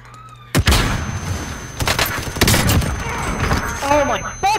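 Gunfire in Warzone sounds in bursts of sharp shots and thuds across the clip, with loud onsets near the start and again around the middle, while game voices and effects carry on.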